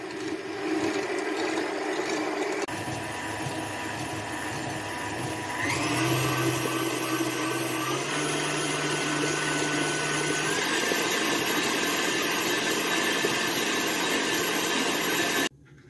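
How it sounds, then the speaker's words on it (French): An electric mixer whisks whole eggs, egg yolks and sugar in a steady, close whirring hum, with a shift to a higher, busier pitch partway through, then cuts off abruptly at the end. "je fouette les 2 œufs entiers, les 2 jaunes avec le sucre jusqu'à ce que le mélange triple de volume et blanchisse"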